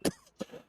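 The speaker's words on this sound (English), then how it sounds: "If I could keep the coughing in check." A person coughs in a flight simulator session, with two short bursts close to the microphone, the first loud and the second weaker, followed by quiet.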